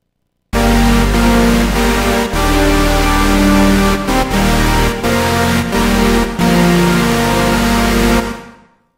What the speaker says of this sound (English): If you turn up the amp, it's going to give it a lot more of a white noise feel